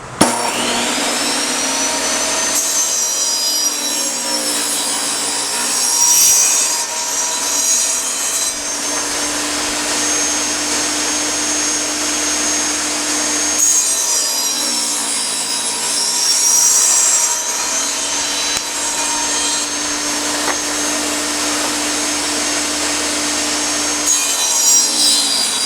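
A wooden board being sawn into three pieces, a steady loud power-saw whine with rising and falling cuts and brief pauses between passes, no talking.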